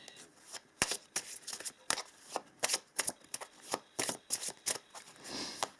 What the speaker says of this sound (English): I want to pull a couple of oracle cards here as well to see if we can get some additional information